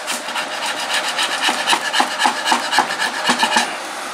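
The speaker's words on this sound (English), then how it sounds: "we're going to hit it with a little bit of sanding" Rhythmic back-and-forth rasping of sandpaper on a wooden step stool, close and steady, with strokes speeding up into a regular scrubbing pattern.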